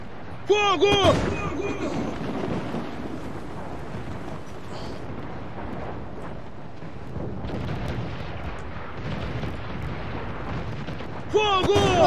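Heavy booming ship cannon blasts and rumbling explosions roll through the game Assassin's Creed IV: Black Flag, with someone shouting excitedly in Portuguese over the firing at the start and end.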